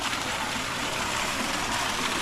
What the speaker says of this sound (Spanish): automáticamente se enciende la bomba de la piscina y por ende la cascada